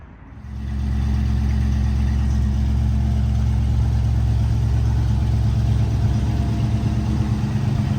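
1970 Ford Mustang fastback V8 starting up: a brief crank, then the engine catches and settles into a loud, steady, rumbling idle, close to the microphone.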